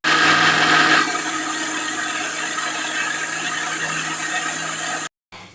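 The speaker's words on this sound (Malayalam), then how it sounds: "പച്ചരി കഴുകി നല്ലോണം കഴുകിയിട്ട് മിക്സിയിൽ ഇടുന്നുണ്ട്" A mixer grinder grinds washed raw rice in a loud, steady whirring drone that runs for about five seconds, shifts slightly in tone after the first second, then cuts off abruptly.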